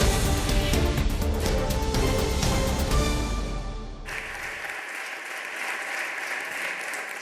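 Sustained applause fills the Parliament of the Canary Islands as a deputy is bid farewell at his final session, loud and dense at first, then thinning to lighter clapping in the second half.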